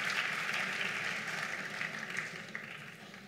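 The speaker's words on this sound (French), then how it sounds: "Oui, il faut les applaudir." An awards ceremony audience applauds the models at an African modelling awards event: a steady, dense wash of clapping held at an even level throughout, fairly distant and without distinct voices.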